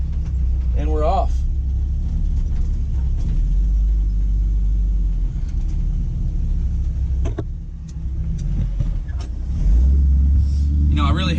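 A restored 1955 Chevy truck pulls away with its engine running, a steady low rumble heard from inside the cab with a brief dip and swell as it changes gear, while someone talks at moments.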